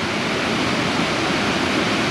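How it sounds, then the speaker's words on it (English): Bridal Veil Falls pours steadily over a curve in a creek, a close, loud, unbroken rush of white water with no other sounds. "Here's the falls."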